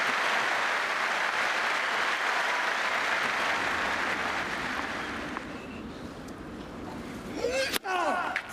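A large tennis crowd at Roland Garros applauds a rally in a sustained, dense wash of clapping that fades after about five seconds, leaving softer murmuring and scattered voices near the end.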